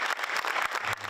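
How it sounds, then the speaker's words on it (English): Applause from police leadership and community members at a city-county council public safety committee meeting, a dense, steady clapping from a crowd filling the whole brief moment without any talk. "Applause from fellow IMPD leadership and community members"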